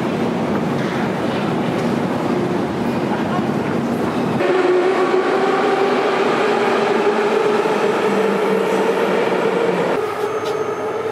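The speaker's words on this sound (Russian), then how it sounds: "Первый раз Юмичу поедет в метро." A subway train rides along with a loud, continuous rumble and a motor whine that rises in pitch as it speeds up, in a crowded metro car.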